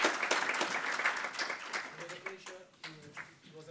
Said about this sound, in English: please extend a round of applause for our speakers